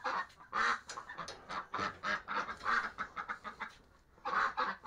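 A flock of farm ducks quacks nearby in repeated, overlapping bursts, loud and rhythmic with a brief lull near the end.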